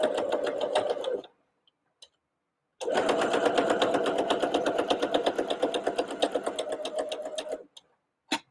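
Sewing machine chain piecing quilt pieces for a pinwheel lap quilt: a fast, even mechanical stitching rattle close by, a short burst, a pause, then a longer steady run that stops with a final brief whir.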